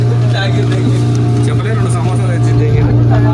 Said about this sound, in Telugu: లారలాగా ఇంజన్